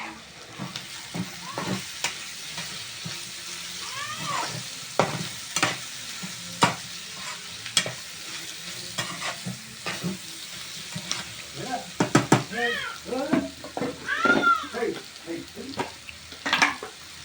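Spiced food frying in a pan while being stirred, a steady sizzle with repeated scraping and clinking strokes of a utensil throughout, fairly close and moderately quiet.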